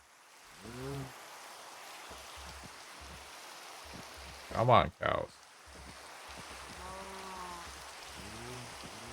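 Rain falling in Minecraft: a steady soft hiss runs through the whole stretch beneath a talking voice, with a couple of brief louder bursts in the middle.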